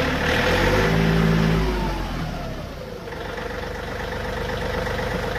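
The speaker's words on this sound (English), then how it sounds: "just so you can hear the engine starting" A 2010 John Deere 4105 tractor engine revs up loudly, then the pitch drops and it settles into a steady, rumbling run nearby.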